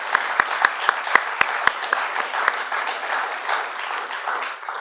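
Audience applause after welcome speeches, beginning with a few sharp, distinct claps that swell into a brief, moderate patter of clapping before fading.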